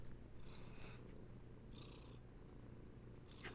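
A kitten purrs close up, a soft, continuous low rumble that pulses steadily under faint background noise.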